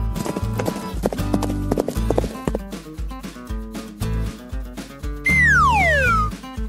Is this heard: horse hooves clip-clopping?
yes